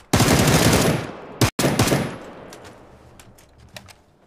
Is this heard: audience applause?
no